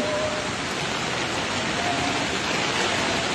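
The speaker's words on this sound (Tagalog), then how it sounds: "Pabugso-bugso po, pabugso-bugso ang hangin at lakas ng ulan dito." Heavy rain roars as a dense, steady wash of noise during Typhoon Kristine in the Philippines, with the whoosh of strong, gusting wind mixed in.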